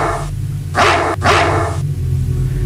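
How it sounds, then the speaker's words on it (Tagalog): Dogs bark in two quick, loud bursts back to back, over a low background rumble. "tumatahol ang mga aso."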